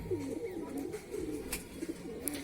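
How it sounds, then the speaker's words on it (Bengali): A male pigeon coos repeatedly near a loft, soft low rolling calls in a steady rhythm over quiet background noise. "আমাদের নর কবুতরটা ডেকে ডেকে তাকে নিয়ে যাচ্ছে"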